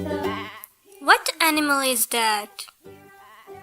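A sheep bleats a few times in a cartoon farm-animal song, between snatches of sung and spoken narration.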